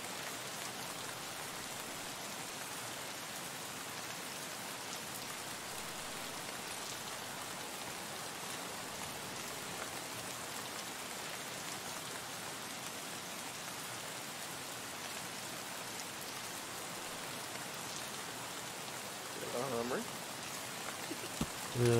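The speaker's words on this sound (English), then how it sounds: "when it's raining like this." Steady rain in the Escape from Tarkov video game falls as a constant hiss on surfaces on the Lighthouse map, with a few faint clicks near the end.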